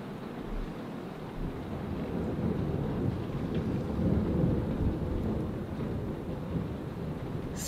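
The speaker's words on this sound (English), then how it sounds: "Listen to that thunder." Low, rolling rumble of thunder swelling and fading over steady rain, with no voices.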